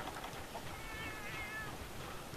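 A cat meows in a quiet room, one drawn-out, faint cry standing alone over a low steady background hiss.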